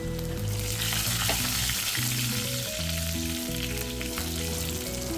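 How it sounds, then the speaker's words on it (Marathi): Chopped garlic frying in a kadhai of oil with crackling mustard seeds and cumin, a steady close sizzle running through the whole stretch with no talk. "त्याच कढईत आपल्याला दोन चम्मच तेल टाकून मोहरी तडकून घ्यायची आहे जिरे सुद्धा तडकून घ्यायचे आहे आणि लसण टाकायचं आहे"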